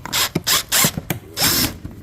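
A power tool drives small 10mm bolts into a gearbox during a fifth-gear swap on a 2004 Scion xB. It makes four or five short, loud whirring bursts with brief pauses between them, close up.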